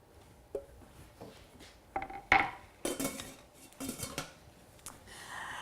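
Metal pots and a steamer clatter and clink in a home kitchen as mixed vegetables go into the steamer, with a string of uneven knocks and scrapes, fairly quiet and close, no talking.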